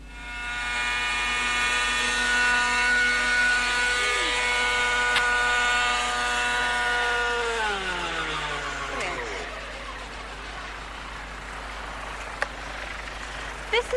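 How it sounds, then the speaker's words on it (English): A Hirobo Jet Ranger model helicopter fitted with a spike, flying in a TV game show studio, gives a loud, steady, near high-pitched whine that slides down in pitch and fades as it winds down. "by using this Hirobo Jet Ranger helicopter with a spike attached to the body, he can transfer the teapot"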